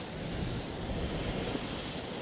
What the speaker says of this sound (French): Il y a encore de belles vagues.